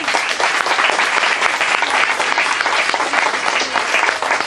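A church congregation clapping together during a sermon, dense continuous applause from many hands filling the room, loud and sustained throughout.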